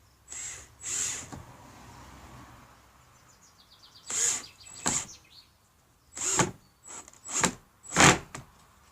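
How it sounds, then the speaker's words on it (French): A power screwdriver drives screws into wooden battens in short whirring bursts, about six separate spurts with quiet gaps between them, close and fairly loud. "Maintenant on prend une vis par trou et on vient visser."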